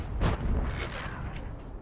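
FV207 artillery gun firing in World of Tanks, one heavy booming shot near the start followed by a rolling rumble and a fainter second report as it fades.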